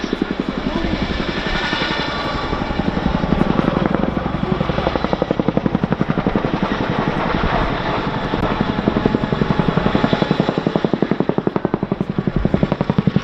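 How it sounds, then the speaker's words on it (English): A Boeing Chinook twin-rotor helicopter performs a flying display at the RAF Cosford Airshow 2019, its heavy rhythmic rotor thudding loud and continuous as it climbs and corkscrews overhead. "they will pull power and left pedal, taking the Chinook skywards into the Gorney corkscrew, rotating and climbing to 800 feet"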